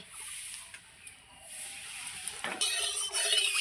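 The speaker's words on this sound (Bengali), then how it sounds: "এইবার আমি মাছ ভাজার জন্য সরষের তেল দিয়ে দিচ্ছি" Mustard oil poured into a hot kadai for frying fish sizzles at close range and builds into a louder crackling hiss toward the end, with a clink of metal partway through.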